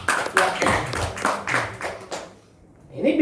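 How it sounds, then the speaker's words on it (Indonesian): An audience at a business seminar breaks into a short round of clapping, a run of brisk repeated claps that fades out after about two seconds. "Tepuk tangan dong teman-teman."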